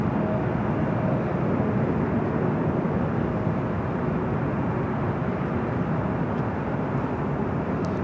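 A Frontier Airbus A321 in Wolverine livery roars down runway 24 left at Los Angeles International Airport, a steady, broad engine rumble heard from a distance, continuous and unbroken with no voices.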